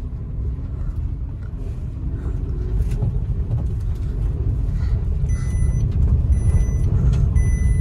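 A 2024 Maruti Suzuki Wagon R accelerates with a steady low engine drone and road rumble that builds slightly. The sound is continuous and fairly close, with faint high electronic beeps near the end and no talking.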